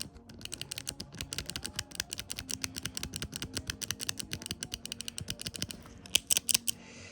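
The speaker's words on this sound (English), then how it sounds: "Then the clicking will now work even on these sides here." Dover impulse device from the 1990s clicking in a rapid, uneven run of crisp mechanical clicks, close up and fairly quiet, with a burst of sharper, brighter clicks near the end.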